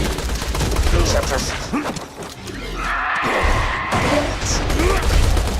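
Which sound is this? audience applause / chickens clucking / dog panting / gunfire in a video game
gunfire in a video game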